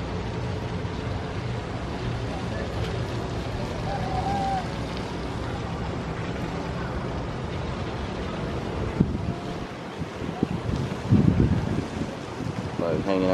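Small boat out on open water, a continuous rushing wash of wind buffeting the microphone and water noise throughout, steady and close with a few bumps and knocks toward the end.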